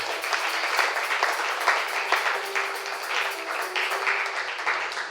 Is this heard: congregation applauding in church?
yes